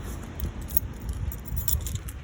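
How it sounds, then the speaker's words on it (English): A bunch of keys for the locks of a Bessecarr E460 caravan jangles and clinks in short, close metallic bursts, with no voices. "that'll be one of the circular top keys"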